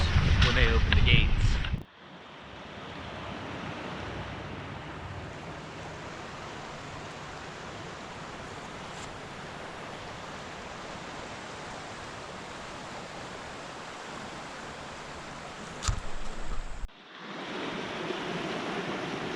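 Water rushes steadily through the chute below Nottely Dam, a broad continuous roar heard from nearby with wind buffeting the microphone at the start and near the end.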